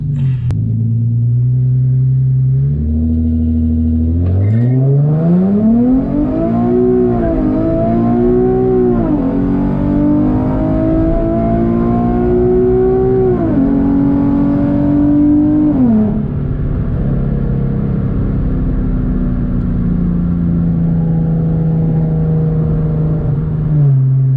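A modified, gutted Infiniti G37x launching hard from a red light: a deep engine rumble that climbs through several rising revs and gear changes, then settles to a lower drone, heard from inside the car without talk.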